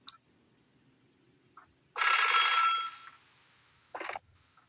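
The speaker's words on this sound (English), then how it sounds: "This time, Nami picked up the phone" A telephone rings in the Super Famicom horror game Otogirisou, one loud sustained electronic ring burst lasting about a second, followed by a shorter ring and brief quiet clicks, with no talking.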